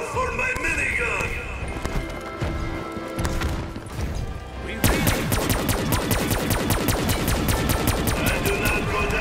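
A Call of Duty minigun opens up halfway through, a loud, rapid, steady stream of shots that follows a stretch of in-game noise and a voice speaking over it.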